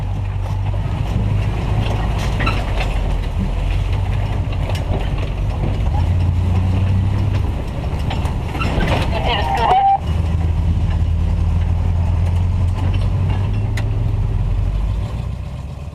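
A tow truck wrecker drives and turns around, its heavy engine rumbling steadily at close range, with a voice talking over it and a brief dip in the noise partway through.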